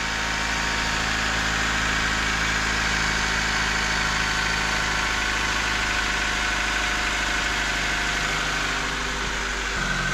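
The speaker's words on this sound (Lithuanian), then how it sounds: "Tai užkurtas dabar variklis be generatoriaus dirželio" A car engine idles with its alternator belt removed and a new pulley fitted, running smoothly and quietly as a steady, close, even hum with a faint underlying rumble throughout.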